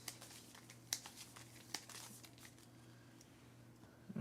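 A deck of cards is shuffled at a tabletop game of Earthborne Rangers, giving quiet papery riffles and crinkles with a few sharper snaps near the start, heard on its own without talk.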